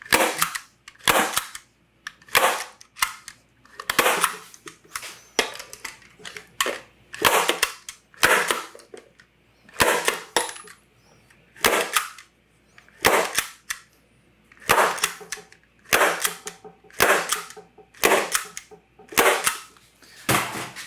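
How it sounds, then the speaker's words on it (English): A staple gun fires again and again into a deer hide in sharp, loud snaps, often in quick pairs, with short pauses of handling noise between each round. "all done with the stapler"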